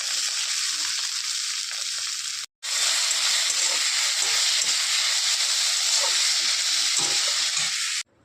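Ginger, green chilli, garlic and chopped onion fry in hot oil in a wok, giving a loud, steady sizzle that runs almost unbroken, with one brief gap, before cutting off near the end.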